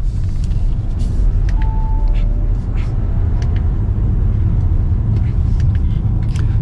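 A 2023 Audi Q5 S Line 45 engine hums and rumbles steadily at low pitch under mild acceleration, with faint road noise and brief higher squeaks over the drone.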